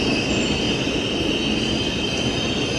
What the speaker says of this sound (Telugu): వ్యాప్ 7 లోకోమోటివ్ వచ్చిందండి